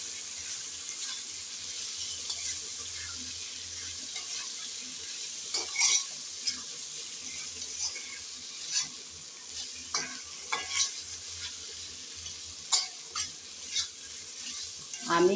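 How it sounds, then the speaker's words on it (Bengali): Fried prawns are stirred in a hot pan alongside pumpkin, giving a soft continuous sizzle broken by scattered scrapes and clinks of the spatula against the pan, growing busier toward the end. "চিংড়িগুলো দিয়ে আবারও একটু ভালোভাবে নেড়ে চেড়ে ভেজে নেব।"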